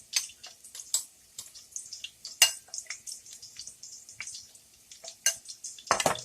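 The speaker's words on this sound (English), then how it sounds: "so the karelas are frying." Intermittent crackling and sputtering of stuffed bitter gourd frying in hot oil in a pan, with occasional louder pops and scraping, no voices.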